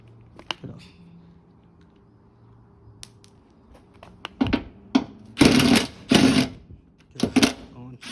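Bolts being worked loose and pulled from the flexible mudguard of a Mitsubishi CE Mirage, giving brief metallic clicks and then bursts of rattling and scraping close by, with faint talk in the background.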